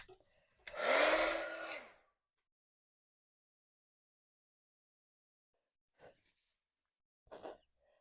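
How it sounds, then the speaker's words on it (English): A heat tool blowing to dry wet ink on a handmade card: a close, loud roaring whoosh that lasts about a second and a half and then cuts off, followed by silence and a few faint short noises. "let me heat that with the heat tool and dry it"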